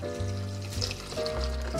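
Potato cooking water pours steadily, splashing and gurgling into a container, with a continuous watery rush throughout.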